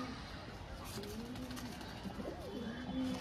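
A held pigeon coos close by, low throaty phrases rising and falling over a busy background hum, with a longer coo near the end.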